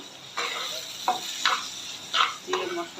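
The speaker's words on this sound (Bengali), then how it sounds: "মশলাটাকে ভালো করে কষিয়ে নেব" Spices are sautéed with chopped onion and tomato in a pan, a continuous sizzle broken by several distinct bursts of stirring and scraping, close and fairly loud, with no one talking.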